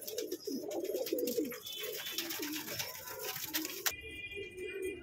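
Saharanpuri pigeons in a loft give a continuous run of soft, throaty coos close by, with a sharp clatter near the end.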